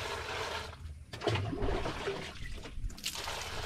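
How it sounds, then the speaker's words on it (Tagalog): Weak, low-pressure flow of water running from a household tap, a steady thin trickle and splash that continues throughout the short stretch at a modest level, with no talking. "Mahina yung tubig ngayon, guys."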